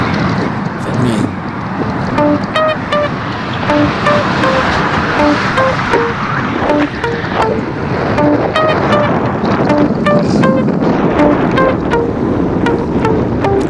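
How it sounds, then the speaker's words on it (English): Strong wind buffets the microphone during a group road ride around Lake Conroe, a loud continuous roaring rush, with a faint tonal tune or beeping pattern running underneath. "Listen to that wind."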